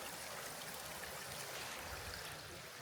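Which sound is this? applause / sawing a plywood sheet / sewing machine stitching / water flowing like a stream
water flowing like a stream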